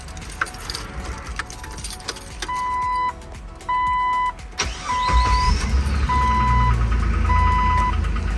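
A Jeep is started from the driver's seat: door and cabin clunks, a few repeated warning chimes, then the engine cranks and settles into a loud, steady running rumble close by while the chimes continue.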